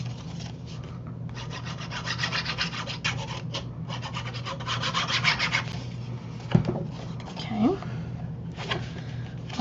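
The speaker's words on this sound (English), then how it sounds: "I'm going to fold and burnish our top flap and do the same thing with that one." A paper flap of a mini album is folded and burnished with repeated close, soft rubbing strokes in quick bursts, under a steady low hum with a voice talking.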